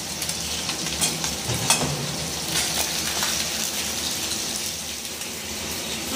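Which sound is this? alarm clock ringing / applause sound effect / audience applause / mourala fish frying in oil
mourala fish frying in oil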